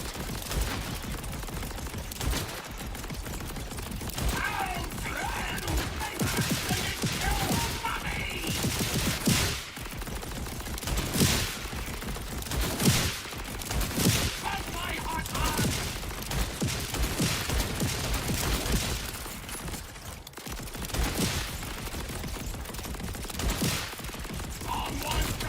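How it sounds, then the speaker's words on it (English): A burst of rapid gunfire in Borderlands 4, followed by mechanical clicks and ratcheting of a reload, with more volleys of shots and metallic handling noises continuing throughout. "if I shoot that and then reload it"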